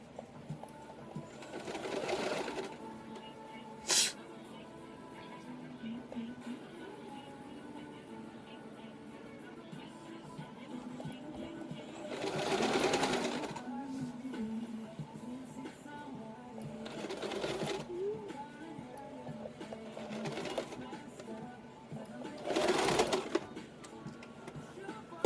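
A sewing machine runs in short bursts while backstitching the final seam on homemade pants, its rapid mechanical whirring rising and falling over a quieter room background.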